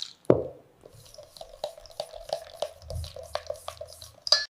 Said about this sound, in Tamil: இப்போது இந்த கலவையில பாலை சேர்த்து நன்றாக கலக்குகிறோம்.